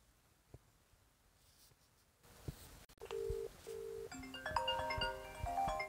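Call ringing through the 3CX business phone app: a faint rustle gives way to repeated electronic ring tones and short beeps, then brighter layered tonal chimes, fairly close and clear.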